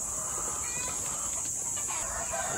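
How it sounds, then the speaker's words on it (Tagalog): Domestic chickens on a small farm clucking and crowing, with overlapping calls in a continuous, steady barnyard chorus alongside constant background hiss, with no talk. "So ayan ang ating mga manok."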